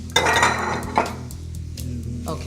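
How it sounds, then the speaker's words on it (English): Kale greens are sautéed and stirred in a pot for a beans and greens soup, with close clinks and knocks of the utensil against the pot. A few sharp hits stand out over a low background hum. "Saute those greens down, and you just want to mix it up so you get the kale on the bottom"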